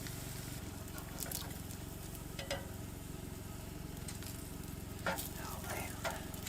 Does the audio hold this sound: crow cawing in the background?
no